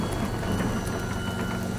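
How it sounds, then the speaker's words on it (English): A steady wash of rain and a low thunderstorm rumble from the video game Four Sided Fantasy, a constant even hiss with no distinct thunderclaps, fairly quiet and with no voices. "today we are in a thunderstorm"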